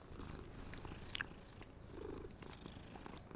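A cat purring in the Hogwarts Legacy video game, a soft, steady low rumble continuing throughout under faint game background sounds.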